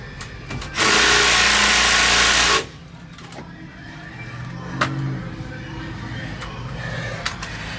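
An impact wrench briefly rattles loudly at the brake caliper bolts of a VW Bus, running for roughly two seconds in a single burst, then stops while quieter shop noise and background music continue.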